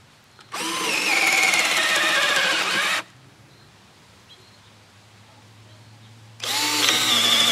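A cheap $20 electric drill with a 1/2 inch bit whines loudly as it bores for a few seconds, stops, then starts up again, with quiet room noise in the gap.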